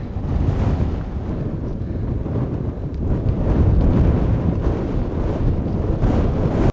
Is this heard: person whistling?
no